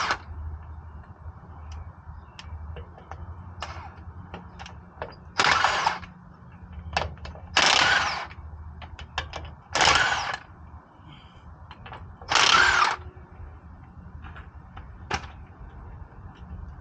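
A power tool spinning out five bolts on a front axle: several short, loud whirring bursts of about a second each, separated by quieter pauses filled with light clicks and metallic taps.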